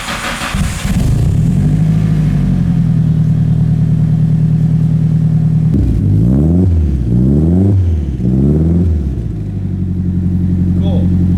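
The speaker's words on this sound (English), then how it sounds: "So, that's what the stock cams sound like." A Nissan S13 engine with stock camshafts idles steadily close by, then blips through three quick rev rises and falls before settling back to a smooth idle.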